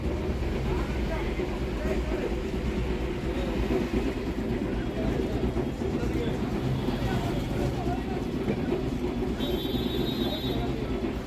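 An old Kolkata tram rolling along College Street, a steady low rumble of wheels and car body with rattles and street noise around it, continuous and close throughout, with a faint high tone near the end.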